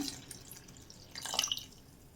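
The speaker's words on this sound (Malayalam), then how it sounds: "ഈ ഒരു കപ്പ് ശർക്കരയിലേക്ക് ഒരു കപ്പ് തന്നെ ഇളം ചൂട് പാലൊഴിക്കണം" Warm milk trickles into a bowl of jaggery, a soft brief splashing pour lasting about two seconds, faint and close, with a slightly stronger burst of liquid sound near the end.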